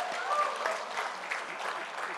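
A live audience applauds steadily at a gubernatorial candidates' debate in Papua Pegunungan, a dense, even wash of many hands clapping with no talk over it.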